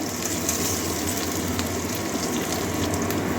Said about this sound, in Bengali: কাঁচা গন্ধ যাওয়া পর্যন্ত ভাজবো